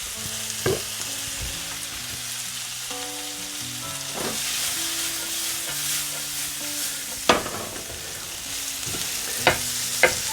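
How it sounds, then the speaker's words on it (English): Food sautéing in a pan after a pinch of salt and black pepper, with a steady close sizzle and occasional sharp scrapes and clinks of stirring. A faint tonal hum runs underneath. "I don't want to saute too much. Just sauté it."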